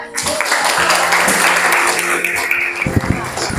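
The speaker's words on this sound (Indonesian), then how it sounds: "Tapi bagus ya, tepuk tangan." Students in a classroom clap for a classmate's answer, a dense burst of applause lasting a couple of seconds before it thins out and a voice begins speaking.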